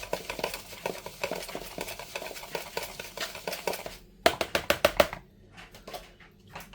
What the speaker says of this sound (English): So I'm just going to give that a stir through before I add my liquid stuff